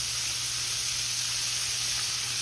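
Oysters frying in hot oil make a continuous, even sizzle and hiss, close and steady, with no voices.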